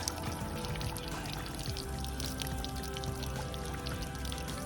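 Water pouring and splashing steadily out of an air conditioning unit with a clogged drain line, a dense continuous gush with dripping, close and fairly loud throughout.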